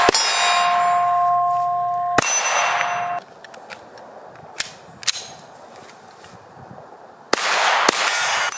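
Shots from a CAA MCK pistol conversion chassis at an outdoor range, several sharp, loud reports spaced seconds apart, each with a ringing metallic tail and short echo, no voices.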